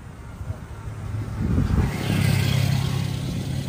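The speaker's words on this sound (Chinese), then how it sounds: "租的跑车啊" A rented sports car passing close by, its engine note swelling from a low rumble to a loud steady roar in the second half, with faint outdoor background.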